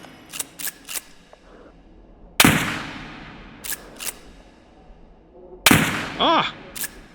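Gunshots in the VR game H3VR from an M1887 lever-action shotgun: two loud, sharp blasts several seconds apart with decaying tails, separated by lighter mechanical clicks of the lever cycling.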